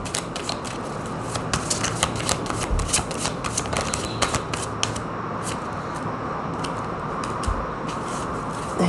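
A deck of tarot cards is shuffled repeatedly, with rapid riffling flutters and soft slaps close by and a faint background hum.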